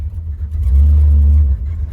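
A 1973 Plymouth Duster's engine revs up on a test drive, a loud low rumble swelling to a sustained roar mid-clip, then easing back to a steady idle-like drone.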